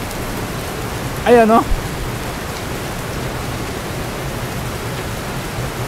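Heavy rain pours down steadily under thick dark clouds, a constant broad hiss that fills the whole stretch, with a brief spoken word near the start.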